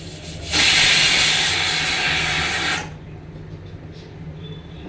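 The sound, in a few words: pressure cooker releasing steam while cooking rice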